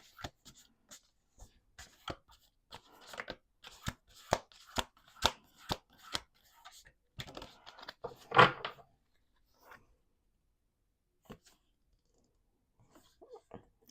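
A deck of cards being shuffled by hand close up in a quiet room, sharp papery clicks and snaps in uneven bursts, with a fuller riffling rush in the middle and sparse taps trailing off toward the end.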